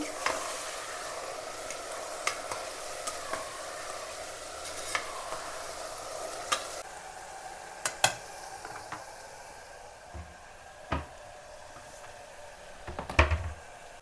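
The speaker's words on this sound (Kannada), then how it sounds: "ಆ್ಯಂಡ್ ಈಗ ಒಂದು ಸ್ವಲ್ಪ ಎಲ್ಲ ಟಾಸ್ ಮಾಡ್ಕೊಳ್ಳೋಣ" Ingredients frying in a pan are tossed and stirred, a soft steady sizzle with scattered scrapes and clanks of utensil against pan, a few louder knocks near the end.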